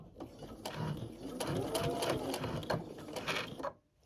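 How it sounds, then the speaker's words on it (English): A sewing machine stitches through fabric in a sewing room, running in a steady burst with brief pauses as it backstitches, close and fairly loud, then stopping abruptly near the end. "So let me see if I can sew that and not get in your way. Okay, and then I'm going to backstitch on there."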